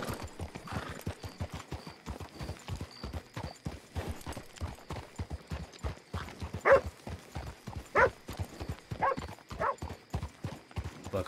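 Horse hooves in the video game Red Dead Redemption 2 clip-clop at a steady trotting rhythm throughout, close and even, with a few sharper, louder strikes.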